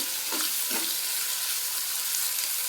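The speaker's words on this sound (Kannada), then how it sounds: "ಈರುಳ್ಳಿ ಚೆನ್ನಾಗಿ ಫ್ರೈ ಆಗಬೇಕು" Onions fry in a pan with a steady close sizzle, and a couple of brief stirring scrapes come near the start.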